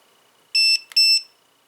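Two short electronic beeps from a portable electric pulse neck massager's button, in quick succession, clear and close, with silence before and after.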